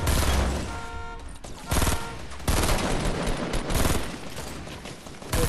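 Bursts of rapid automatic gunfire in a Fortnite match, loud and close, with dense volleys rattling in waves and brief lulls between them, player voices mixed in underneath.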